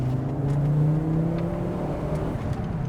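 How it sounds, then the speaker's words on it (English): A Fiat Coupe engine hums steadily from inside the car while driving, a smooth low drone with a faint rise in pitch early on, and no other sound on top. "She's quick. The engine's smooth."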